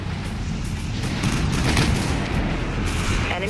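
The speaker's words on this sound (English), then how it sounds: "Broadside, open fire." Broadside cannons on a warship in the Dreadnought space combat game fire in a continuous rumbling barrage of heavy booms and blasts, loud and dense from start to finish.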